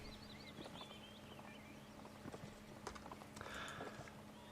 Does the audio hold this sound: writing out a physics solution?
no